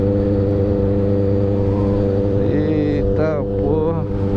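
Rally motorcycles pass on a road, heard from a moving Honda Hornet as a loud steady engine drone with rising, whining tones, while a rider talks over them.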